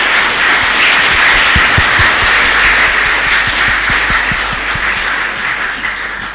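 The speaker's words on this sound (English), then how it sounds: "let's give applause to Mr. Ono." Loud, close applause from an audience thanking a presenter after a guest lecture session, dense clapping that holds steady and then tapers gradually.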